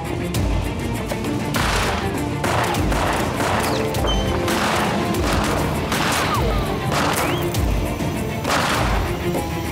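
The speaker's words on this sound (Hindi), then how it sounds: "गोलियां चलाओ तातार" A gunfire volley in a historical Ottoman drama series: repeated sharp cracks and bursts fire in quick succession, loud over a dense, continuous battle din.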